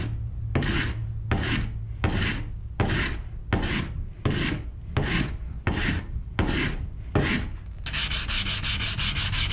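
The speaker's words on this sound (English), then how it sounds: "I had to sand quite a bit of this off" Rhythmic rasping strokes of sandpaper on wood, about eleven back-and-forth passes close up, ending in faster continuous scrubbing.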